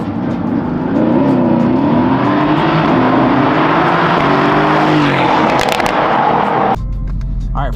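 A Porsche GTS with straight pipes accelerates hard from a standstill, its loud engine roar rising in pitch through the gears and then cutting off abruptly near the end.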